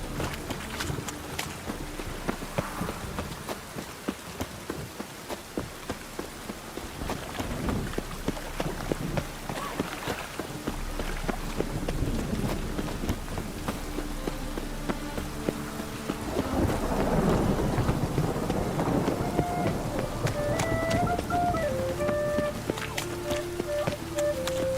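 Steady rain pours in The Witcher 3 video game, with rolling thunder rumbling at intervals. Scattered footfalls and faint musical tones sit on top of the continuous downpour.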